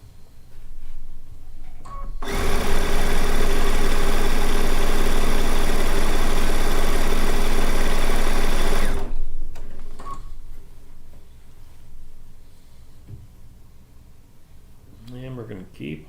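A sewing machine runs in one loud, continuous burst of stitching for several seconds while binding a quilt, then stops, and a person talks quietly before and after.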